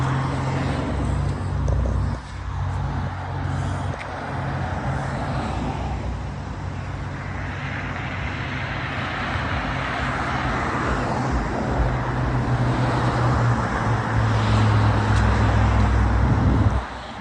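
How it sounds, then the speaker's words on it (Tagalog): Steady, loud roar of vehicles on a highway heard from the middle of the road, a continuous wash of engine and tire noise with passing swells and no talking. "Dito na tayo sa gitna ng highway kung saan dumadaan yung mga sasakyan."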